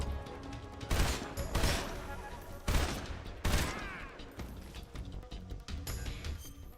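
Heavy gunfire in Metal Gear Delta, with several loud bursts of shots clustered near the start and again around the middle, including fire from a sniper. A dense game soundscape continues underneath between the volleys.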